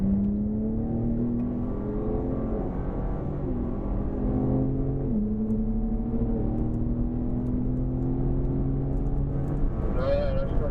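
BMW car accelerating on a race track: a loud engine climbs steadily in pitch through several gear shifts, close and continuous, with someone talking over it.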